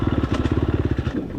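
A dirt bike engine in third gear revs with a fast, steady pulsing putter on a hot, dusty ranch trail, close and loud, with no one speaking.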